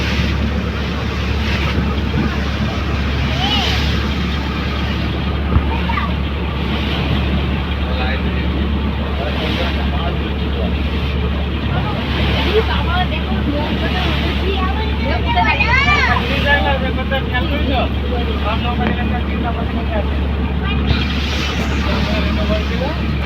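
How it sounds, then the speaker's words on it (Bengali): Wind and choppy waves on a Sundarbans river, heard from a moving boat as a steady low rumble and wind buffeting, with people talking over it. "আর এখন হাঁটা হচ্ছে আর দক্ষিণে হাওয়া হচ্ছে, হাওয়ার উল্টো দিকে হয়ে গেছে বলে ঢেউটা শুরু হয়েছে"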